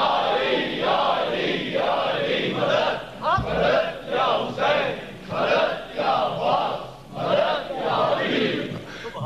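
A crowd at a Shia majlis during the Ashra-e-Rajab gathering chants religious slogans in loud, rhythmic bursts of many voices, rising and falling in repeated waves.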